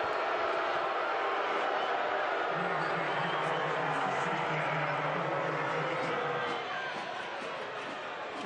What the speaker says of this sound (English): The crowd didn't like that one.